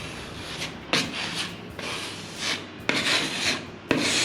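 Ready-made filler being rubbed into a scrape on a wall, heard as close dry scraping and smearing strokes with a few sharp knocks as the tool meets the surface, with no talk.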